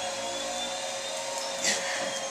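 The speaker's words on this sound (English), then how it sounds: "Must you vacuum now?" An indoor vacuum cleaner runs with a steady, loud broadband whine and hum throughout, with a brief surge in pitch partway through.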